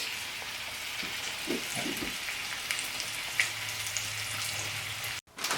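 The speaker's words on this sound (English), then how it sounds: "first you start out with that bacon cooking" Bacon cooking on a grill, a steady crackling sizzle with popping fat throughout, close and continuous, with a faint low murmur partway through.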